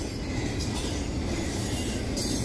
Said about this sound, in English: C40-8 train, second of three, is always a treat to see